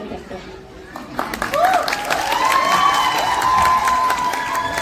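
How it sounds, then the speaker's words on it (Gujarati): An audience bursts into applause and cheering, the clapping building from a quieter start into a loud, sustained crowd roar mixed with whistles and shouts. "જેટલી તાળીઓ માઇક આપતા પહેલા તમે વગાડતી એનાથી વધારે વાગવી જોઈએ"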